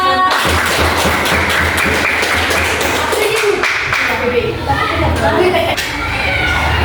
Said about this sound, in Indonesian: Tepuk tangan dulu buat kelompok 2.